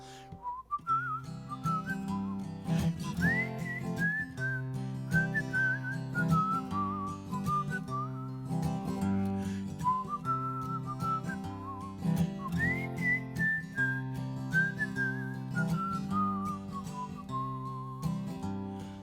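A person whistles a song melody solo, clear and steady, with rising and falling phrases carried over a sustained accompaniment during a live music session.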